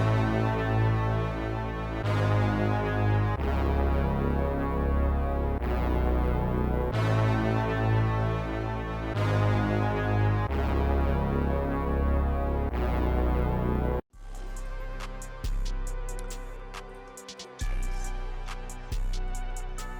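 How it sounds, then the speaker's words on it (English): A deep brass one-shot doubles as bass in a glo beat made in FL Studio, following the root notes in long sustained held tones within a looping arrangement that shifts to a sparser pattern partway through. "I added this brass one shot. Kind of acts as just like a deeper brass, but also sort of like a bass."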